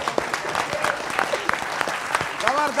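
A crowd at a televised political debate show bursts into sustained applause, dense clapping with scattered shouts and voices mixed in throughout.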